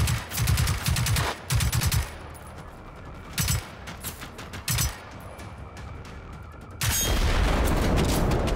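Explosions blowing up a whole row of targets in Generation Zero: several loud, sharp blasts and rattling bursts come in uneven clusters, then a sustained roaring rumble sets in and continues to the end.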